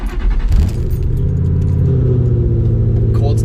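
A Ford Mustang engine fires up from a cold start in a parking lot, a loud low rumble swelling after a brief crank and settling into a steady, throbbing idle close by, with a faint jangle of keys.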